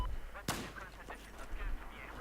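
A single sharp, loud gunshot cracks out in a tactical shooter game, followed by fainter echoing reports and background game noise.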